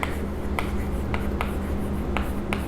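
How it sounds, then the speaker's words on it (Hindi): Marker or chalk writing on a board during an accounting lecture, heard as a series of short, sharp scratchy taps at irregular intervals over a steady low hum, with no talking. "ऊपर हम लिखते हैं"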